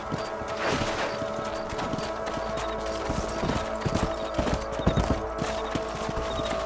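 Steady clip-clopping of horse hooves over a busy soundscape in Red Dead Redemption, with a dense rhythmic patter of hoofbeats throughout and occasional louder thuds.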